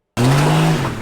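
A race car's front wheels squeal and skid as its steering box breaks off the frame, a sudden loud tire screech with engine roar that lasts about a second.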